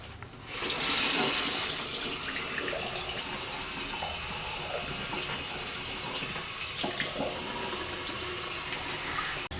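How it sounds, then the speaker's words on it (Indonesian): Tap water running steadily while hands are washed, a bright continuous hiss that surges louder near the start, then settles into a constant close splashing stream with small irregular splatters. "Mencuci tangan dengan air mengalir sangatlah sederhana."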